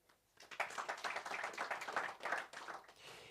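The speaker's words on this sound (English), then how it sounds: "Give her a round of applause, please." Applause from a press conference audience for the Absa Run Your City Series, a short burst of many hands clapping that starts quickly, holds steady at moderate volume and tapers toward the end.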